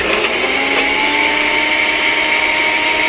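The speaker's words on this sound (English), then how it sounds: "put it in the blender" A blender runs continuously and loudly, blending cashew cheese ingredients with onion powder, garlic powder, a garlic clove, black pepper and salt, giving a steady high motor whine with no pauses.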